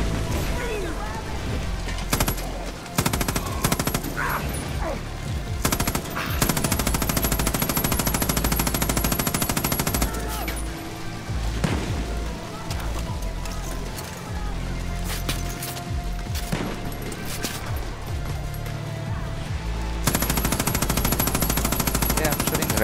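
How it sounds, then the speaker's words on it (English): Automatic gunfire in the co-op shooter Far Cry New Dawn during the final fight, loud dense bursts and booms running almost without pause, with talk in the background. "I'm shooting right at her face"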